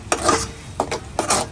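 Pav bhaji masala is stirred into cooked onion, tomato and vegetables in a pan, with three quick scraping strokes of a spoon close up.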